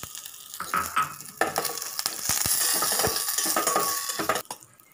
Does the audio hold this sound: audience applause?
no